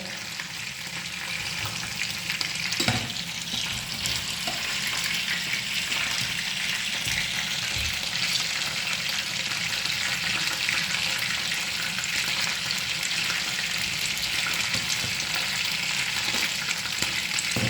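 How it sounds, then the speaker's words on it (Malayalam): Chicken pieces frying in hot oil for a chilli chicken recipe, a steady close sizzle and bubbling that runs throughout, with occasional stirring clinks and no talk. "ഇതേപോലെ തന്നെ ഞാൻ എല്ലാം വറുത്തെടുക്കട്ടെ കേട്ടോ"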